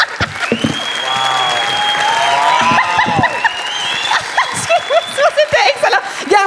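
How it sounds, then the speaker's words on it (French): A live comedy audience in Victoriaville applauding comedian Simon Gouache, clapping loud and close with scattered chuckles and cheers, while voices talk over it throughout. "Gardez vos applaudissements pour Simon Gouache"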